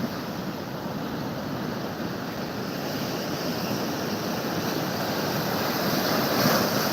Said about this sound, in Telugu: ఒక్క నిమిషం కూడా అలలు ఆగ ఆగకుండా ఎగిసి పడుతూ ఉన్నాయి